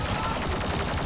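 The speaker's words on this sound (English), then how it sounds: "This is like a machine gun." Rapid machine-gun-style weapon fire from an arcade-mode video game, a dense, continuous rattle of shots packed tightly together, loud and close throughout with no pauses.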